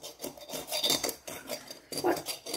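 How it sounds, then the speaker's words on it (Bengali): A knife scrapes burnt residue off a black kadai in short, rasping strokes, close and fairly quiet, with small pauses between the strokes. "এরকম একটা ছুরি নিয়ে নেবেন, ছুরি নিয়ে একটু ঘষাঘুষি করলেই উঠে যাবে"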